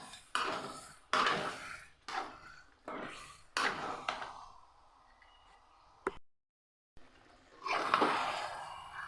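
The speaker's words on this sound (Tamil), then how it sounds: "அடி பிடிக்காமல் கலந்து விடுங்க." Chicken gravy being stirred in a pot, with a utensil scraping and knocking against the metal in repeated bursts of stirring, close up, separated by a brief silent gap.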